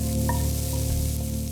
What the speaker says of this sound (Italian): Ad olio ormai caldo, non bollente mi raccomando, aggiungiamo le zucchine e le carote precedentemente tagliate.